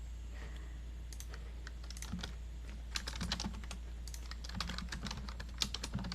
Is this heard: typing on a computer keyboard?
yes